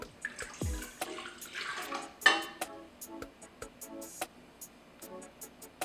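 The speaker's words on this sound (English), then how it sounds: "Our next step is to add the water to the yeast." Water pours briefly into a container of yeast for pretzel dough with a splashing gurgle, followed by scattered light clinks and drips in a quiet room.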